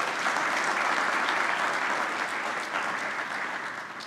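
An audience applauds at a Pan-African merit award ceremony in Brazzaville, dense steady clapping that holds for about four seconds, fading slightly toward the end with no voices over it.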